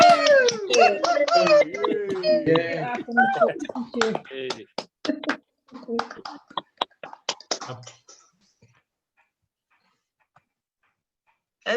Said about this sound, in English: take your mics off and give everybody a great cheer